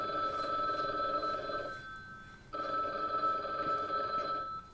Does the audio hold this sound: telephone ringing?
yes